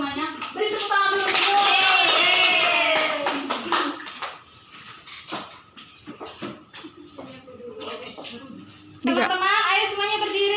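Schoolchildren in a classroom clap their hands together, a dense burst of close claps that fades into scattered slaps while kids talk nearby.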